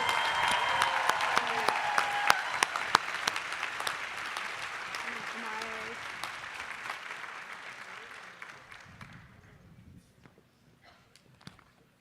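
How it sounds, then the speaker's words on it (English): A crowd applauds at a college commencement ceremony, dense clapping that gradually thins out and fades to a few scattered claps, with brief talk underneath. "Let's have one more round of applause"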